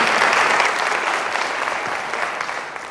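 An audience claps steadily to welcome a speaker at a seminar on marijuana's impact on teens and young adults, a dense, loud wash of applause that slowly thins toward the end.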